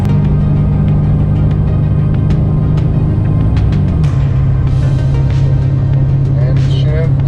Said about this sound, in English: kicked into second gear, I think, and now it's actually climbing